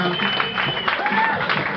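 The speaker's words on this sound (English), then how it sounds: "Please clap." Comedy club audience at a live Kill Tony taping clapping together, a steady wash of applause filling the room with voices mixed in underneath.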